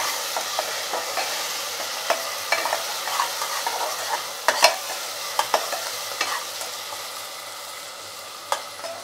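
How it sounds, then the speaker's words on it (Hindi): Ginger-garlic paste fries and sizzles in a hot pan while being stirred for a home-style bottle gourd curry, with a steady crackle punctuated by sharp scraping clicks from the spoon and no voices. "1/2 चम्मच अदरक और लहसुन का पेस्ट, अच्छे से 1 मिनट भूनेंगे।"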